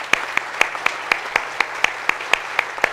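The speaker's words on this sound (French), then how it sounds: "je voudrais sincèrement qu'on applaudisse les startups" Audience applause at a French regional business awards final, a steady wash of clapping from a hall full of people with sharper claps standing out at an even beat, fairly close and loud, with no talking over it.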